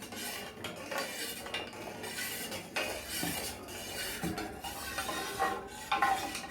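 Raw mango sherbet with salt and ice is stirred, giving repeated clinks and scrapes of a utensil against the vessel at a moderate, uneven pace, with no talking.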